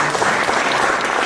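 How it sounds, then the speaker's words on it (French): An audience claps for a young candidate at a national accordion competition, a dense, even wash of applause heard close and steady. "que je vous demande d'applaudir."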